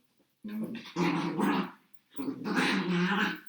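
A dog growls close up in two long, rumbling bursts separated by a short pause, with a whiny edge to the sound.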